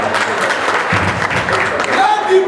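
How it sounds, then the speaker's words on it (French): Applause at a doctoral thesis defense, with sustained clapping from a seated audience under voices, continuous and fairly loud. "Je vous demande d'applaudir les diplomates."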